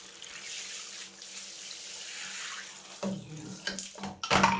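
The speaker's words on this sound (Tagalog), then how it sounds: "Shower na rin ang aking pangatlong gold crest." Water sprays from a shower onto a gold crest houseplant indoors, a steady hiss that runs for several seconds before breaking into a few louder, splashier bursts near the end.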